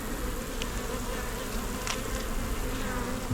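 Honey bees buzz from an opened brood box that is almost full of bees, a steady, close, dense hum that holds without a break.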